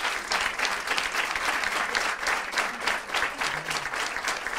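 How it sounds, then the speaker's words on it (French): At a conference on women engaged in human rights, the audience applauds the three speakers with steady, full clapping that holds at an even level throughout, crowded and close. "Je crois qu'on peut à nouveau applaudir tout le monde, notamment ces trois intervenantes"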